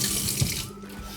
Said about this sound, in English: as soon as I rinse my hands